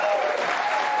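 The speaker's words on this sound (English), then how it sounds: "Cheap applause, Steve." Studio audience applause fills the whole moment, a dense, even burst of clapping close up and loud with no gaps.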